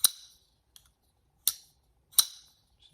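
Tempest Knives Jetstream prototype folding knife blade flicked open, giving sharp bright snaps: three loud crisp clicks spaced about a second apart with a faint tick between them, close and alone.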